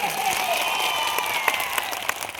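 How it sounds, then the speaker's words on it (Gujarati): A crowd at a political gathering clapping together, a steady spread of applause with scattered sharper claps, while a tonal sound drifts faintly underneath. "એ લોકો સાગબારા, ડેડિયાપાડા અને ચીકદાના લોકો માટે એકવાર જોરદાર તાળીઓ પાડી લો"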